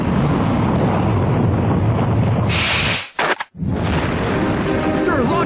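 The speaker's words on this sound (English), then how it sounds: "Lift off in 3, 2, 1, ignition." A toy-brick rocket launch ignition effect roars as a dense, loud rumble that cuts out abruptly with a brief crackling gap before the roaring noise resumes.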